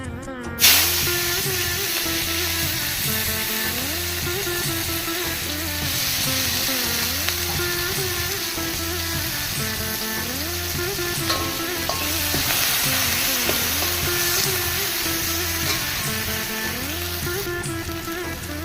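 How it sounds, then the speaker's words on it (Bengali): Onions frying in oil left over from crisp-fried sole fish, a loud continuous sizzle with rhythmic stirring scrapes of a spatula running through the whole stretch, no talking. "মাছ ভাজা তেলেই আমি দিয়ে দিব পেঁয়াজ।"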